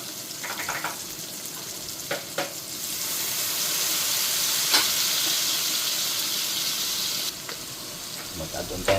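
Soy sauce hits tomatoes frying in a pan, and the steady sizzle swells into a loud, bright, hissing fry that holds for several seconds with a few crackles and stirring clatters.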